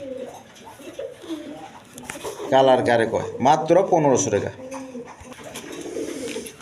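A pair of light-coloured blackless shirting pigeons coo in deep, rolling bursts at close range in the middle of the clip, while someone talks before and after.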